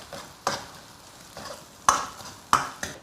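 Ginger, scallion and minced garlic hit hot, clearing oil in a wok with chicken and pig heart, giving a steady close sizzle broken by a few sharp scraping stir strokes of the spatula.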